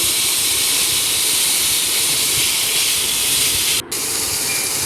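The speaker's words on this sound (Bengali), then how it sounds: "কড়াইয়ে যে তেল আছে এই তেলেই রান্না হয়ে যাবে। দিয়ে দিব পরিমাণ মতো পেঁয়াজ।" Onions sizzle in hot oil in a kadai, a steady broadband hiss with no talk over it, cut by one brief dropout near the end.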